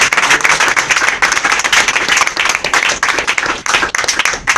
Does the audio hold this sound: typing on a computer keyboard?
no